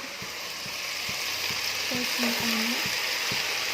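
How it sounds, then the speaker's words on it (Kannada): Vegetables and tomatoes sizzling in a pan over steady frying noise, with a few soft scraping knocks and a brief voice speaking over it. "ಸ್ವಲ್ಪ ಫ್ರೈ ಆಗೋಗ್ತದೆ."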